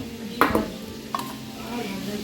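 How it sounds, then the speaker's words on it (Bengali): A utensil stirs food frying in a wok, two quick scraping clatters over a soft background sizzle. "এবার মা ভালো করে এটাকে নাড়াচাড়া করছে"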